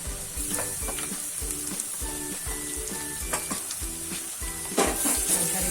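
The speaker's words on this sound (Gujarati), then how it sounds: "હવે તેમાં આપણે આદુ મરચાંની પેસ્ટ આપણે જે કટ કર્યું છે તે નાખી દેશું" Ginger-chili paste sizzles in a pan while being stirred for garlic pauva (flattened rice with potato), with a steady rhythmic scraping and clinking of the spoon against the pan over a continuous soft frying hiss.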